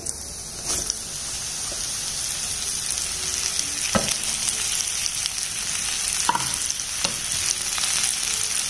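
A 200-gram pack of sliced mushrooms sautéing in oil in a pan over high flame, a continuous bright sizzle with a few sharp scrapes and clicks of stirring.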